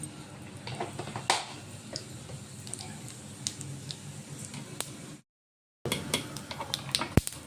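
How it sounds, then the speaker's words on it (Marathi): Cumin seeds crackle in about two spoons of hot oil as a tempering for chutney, a dense steady sizzle with scattered sharp pops, close by, broken by a short silent gap and then resuming. "आता जिरं आपलं तडतडलेलं आहे"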